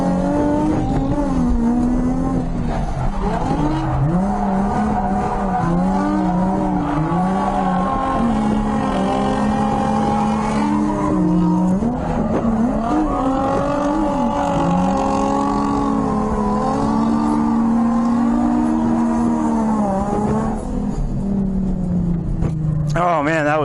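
A Nissan 350Z drifts at a drift event, its engine revving hard and wavering as it holds and sweeps through slides. The engine note stays loud and sustained the whole time.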